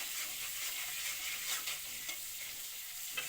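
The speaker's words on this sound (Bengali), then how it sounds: "ভালো করে লাল লাল করে ভাজা" Mixed vegetables and soybean with salt and turmeric frying in a pan, a continuous soft sizzle with faint stirring, no talk.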